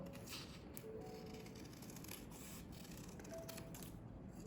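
Scissors cut a circle out of paper for a 3D ice cream craft, a quiet, close series of crisp snipping and rustling strokes in an uneven rhythm, with no talking.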